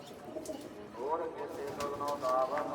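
A pigeon gives a few low, burbling coos nearby, the calls swelling toward the end while someone speaks alongside.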